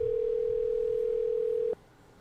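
A steady electronic telephone voicemail beep holds one pitch for nearly two seconds and then stops sharply, leaving faint background hiss.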